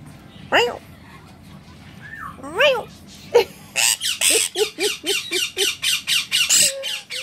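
A parrot lets out loud, repeated squawks and whistling calls, close by, building into a rapid run of harsh squawks toward the end.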